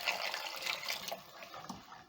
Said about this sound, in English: more water and then stir in everything to combine